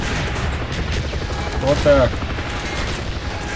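Gunfire and a bridge being blown up in the video game Call of Duty Black Ops, a dense rumbling battle din with a louder burst near the middle, while someone speaks briefly over it.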